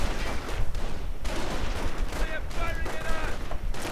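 Gunfire from riflemen in the strategy video game Company of Heroes, scattered bursts and volleys crackling at moderate level through the battle noise, with talk over it.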